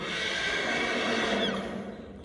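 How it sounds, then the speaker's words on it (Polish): A horse gives a whinny indoors in a corridor, a sustained, fairly loud call lasting a couple of seconds that tails off. "Możesz tak zarżeć słodko, jak zarżałeś?"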